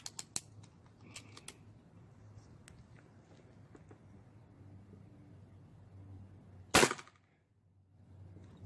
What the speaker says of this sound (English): Last and final shot.